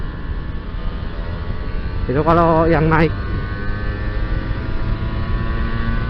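A Kawasaki Ninja R motorcycle with a tuned carburetor setup revs up once in a sharp rising whine that climbs and drops over about a second, over a constant idling drone, with someone talking nearby.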